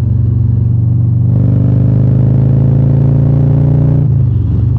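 A 2024 Harley-Davidson Road Glide running a Screamin Eagle Pro Street exhaust and tune throbs loud and close with a deep, steady V-twin rumble that climbs in pitch as it pulls, then eases off near the end.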